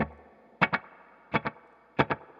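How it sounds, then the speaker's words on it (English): A guitar played through a delay pedal set to slapback: three pairs of sharp plucked hits, each followed closely by a single quick echo, with a short ringing tail, clean and alone. "A slapback style delay, if you listen to the delay, what I've got set up here"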